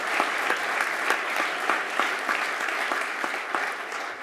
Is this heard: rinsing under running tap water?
no